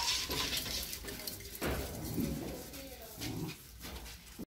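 High, thin whimpers from a newborn puppy, one of a litter of nine, rise over a noisy home background with water running and dishes clattering, and a person talks nearby.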